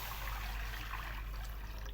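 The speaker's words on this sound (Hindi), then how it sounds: "सबसे पहले हम पानी डालेंगे" A steady, faint trickling stream of water poured into a pot as the start of a mixed lentil dal, running continuously under a low background rumble with no talking.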